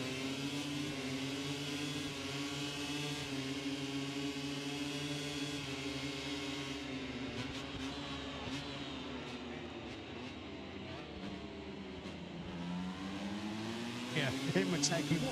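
A Ducati MotoGP motorcycle laps Motegi during qualifying, its engine a loud, sustained high-revving howl that dips in pitch near the end as it slows for a corner, then climbs sharply again as it accelerates.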